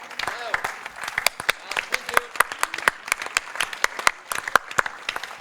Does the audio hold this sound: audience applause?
yes